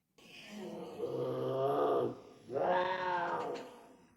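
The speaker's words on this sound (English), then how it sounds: "Cat screaming." A cat screaming in the Star Trek original series episode "Catspaw": two drawn-out, wailing yowls with a low growling undertone, loud and close, separated by a brief dip.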